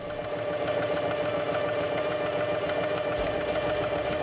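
A Singer 4411 heavy duty sewing machine stitches forward, its needle making a fast, steady mechanical chatter over a constant motor hum. It sounds close and even throughout, with no voices.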